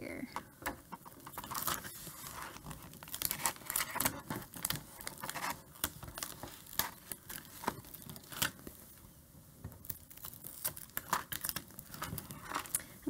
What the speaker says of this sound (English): start peeling away my design slowly